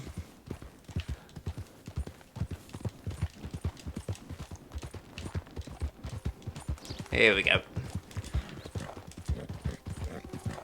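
Steady clip-clopping horse hooves in Red Dead Redemption 2 trot along at a brisk, even rhythm, with a short horse whinny midway and a voice speaking briefly over it.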